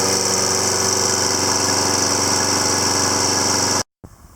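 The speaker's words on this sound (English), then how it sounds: "I really do like these Toro Recycler personal pace lawnmowers." A Toro Recycler Personal Pace walk-behind lawn mower engine runs at a steady, loud drone up close, then cuts out abruptly near the end.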